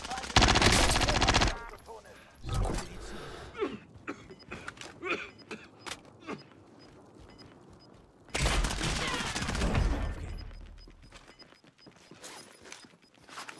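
Bursts of automatic gunfire in the battle-royale shooter Warzone, loud crackling volleys near the start and again midway, with scattered single shots between and someone talking briefly over them.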